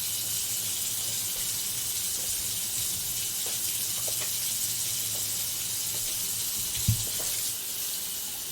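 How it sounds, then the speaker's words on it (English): Water runs steadily from a tap into a sink while food processor parts, including the blade, are rinsed, making an even, moderately faint hiss with a soft knock near the end. "Give this a quick rinse."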